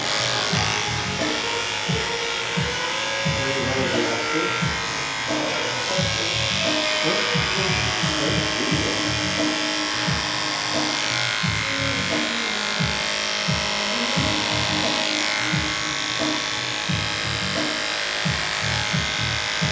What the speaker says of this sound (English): when I do clip over comb with my detachable clipper, I use my OA as my base blade to cut the top.